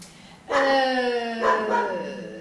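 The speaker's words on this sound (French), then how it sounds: "ce que vous entendez, en fait, c'est mon chien qui aboie" A pet dog barking indoors, two loud, close, tonal yelping barks, the second shorter and lower, over a quiet room background.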